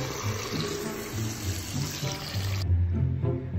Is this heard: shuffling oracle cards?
no